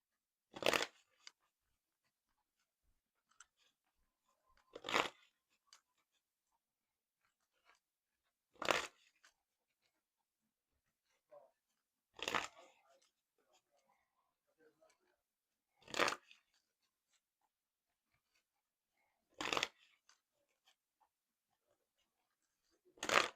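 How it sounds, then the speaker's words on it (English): Six brisk tarot card shuffles, each a short riffling burst, spaced evenly about every four seconds with quiet pauses between, close and clear. "I'll shuffle up these cards and then we'll go from there."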